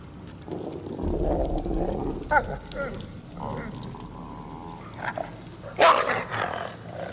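A wolf in a video game growls and snarls steadily for several seconds, loud and close. Its rough, low rumble swells into sharper barking bursts near the end.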